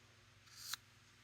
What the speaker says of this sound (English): let me get my ribbon scissors